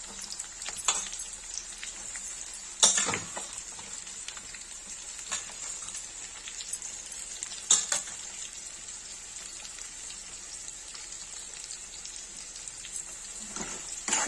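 Onions sizzling in a pan for an egg curry, a steady soft crackle and hiss with occasional louder pops, quiet and continuous with no talking.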